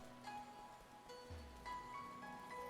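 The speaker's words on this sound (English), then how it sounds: "Even though it's raining." Rain patters softly and steadily at night in a video game set in a Japanese-style town, a faint continuous hiss with light tonal background music and a low rumble partway through.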